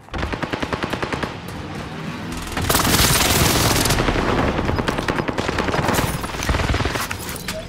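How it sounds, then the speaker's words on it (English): Airstrike in the video game Call of Duty Warzone Pacific: rapid rhythmic gunfire gives way to a louder, dense barrage of blasts and booms that keeps rolling to the end. "Allied precision airstrike incoming"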